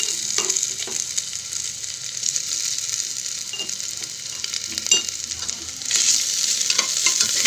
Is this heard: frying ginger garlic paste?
yes